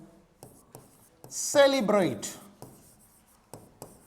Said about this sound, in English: now I will write the sentence according to model